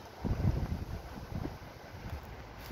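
Strong autumn wind gusting in a garden, low rumbling buffets on the microphone swelling and easing over a few seconds, fairly faint and with no talk.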